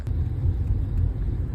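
A 2013 Nissan Altima drives along with a steady low road rumble and engine drone from inside the cabin, loud and continuous, with no talking.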